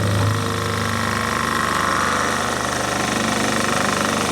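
A vacuum sealer runs steadily on a bag of beef stew under a clamped, closed lid, its motor and pump giving a continuous close humming drone from start to finish with no talking.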